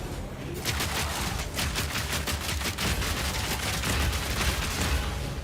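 Rapid bursts of grenade explosions and combat effects from the action game Path of Exile 2, dense and loud, overlapping in a steady barrage with no talking.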